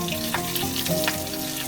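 Spices tempering in hot oil for a taro leaf curry, a short burst of close, steady sizzling with no talk.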